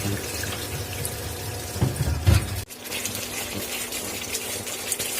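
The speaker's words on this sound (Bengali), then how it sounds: "এখন এখানে আমি দুধ দিয়ে দিচ্ছি।" Milk poured into a pan of chicken Afghani malai curry, a close, steady liquid gush with a few bubbling spurts, ending abruptly partway through before quieter kitchen background continues.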